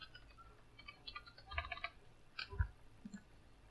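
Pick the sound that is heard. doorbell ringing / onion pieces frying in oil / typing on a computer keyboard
typing on a computer keyboard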